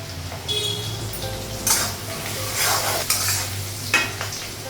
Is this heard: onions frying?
yes